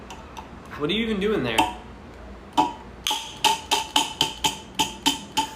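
Aluminium beer can clicking each time it is touched, a run of sharp, evenly spaced metallic ticks in the second half, close and fairly loud, after a voice speaks over faint earlier clicks.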